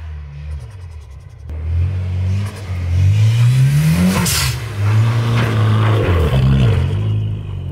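Mitsubishi Evo X engine revving hard during drift practice, a loud, close roar that climbs and dips repeatedly as the throttle is blipped, with a sharp rise in the middle.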